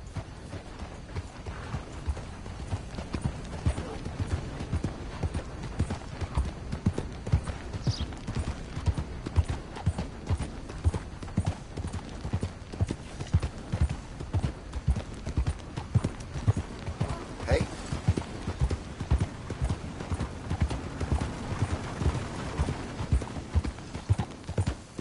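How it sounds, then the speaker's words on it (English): Horse hooves clip-clop steadily in the Red Dead Redemption 2 video game, a continuous rhythmic walking pace over ambient outdoor background, moderately close, with no talk. "That's a nice horse."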